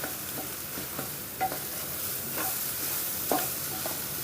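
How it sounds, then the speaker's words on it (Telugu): Egg bhurji frying in a pan, with a soft steady sizzle under repeated scraping strokes of a spatula stirring, close and fairly quiet. "మన అండా బుర్జీని అయితే ఫ్రై చేసుకుంటే అద్భుతంగా ఉంటుంది అన్నమాట"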